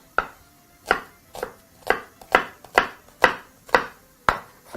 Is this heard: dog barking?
no